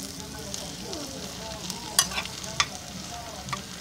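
Softened onions fry in a pan under a steady moderate sizzle, with a few sharp clicks from a utensil against the pan.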